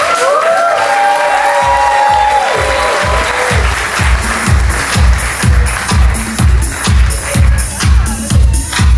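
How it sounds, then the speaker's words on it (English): Wedding reception guests burst into loud, sustained applause with cheering and whoops, the clapping settling into a steady rhythmic beat as the crowd keeps time. "another huge round of applause to the loving parents of our groom"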